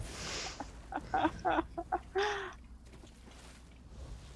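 Chickens in the video game Elder Scrolls Online cluck and squawk in a short burst of sharp calls, one ending in a higher drawn-out squawk, over low background hum.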